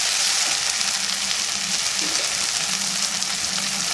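Beef frying with curry leaves in a pan, a steady close sizzle with soft crackle running evenly throughout, no voices.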